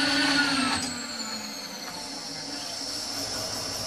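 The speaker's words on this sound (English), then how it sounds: "I'm going to spin this end mill. This is a carbide end mill. I'm going to spin it at 750." Milling machine spinning a carbide end mill at 750 rpm, a steady close whine with a high tonal hum that drops slightly in pitch early on and then holds even and continuous.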